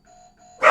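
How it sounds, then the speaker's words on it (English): A two-note doorbell chime rings out cleanly, then a sudden loud burst of knocking or banging cuts in at the end, close and sharp, with no one talking. "Doorbell and knocking."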